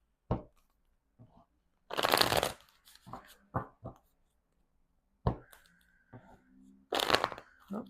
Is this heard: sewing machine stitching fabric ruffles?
no